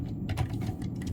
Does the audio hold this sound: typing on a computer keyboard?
yes